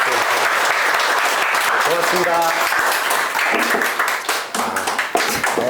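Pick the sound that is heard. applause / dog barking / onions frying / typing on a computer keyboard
applause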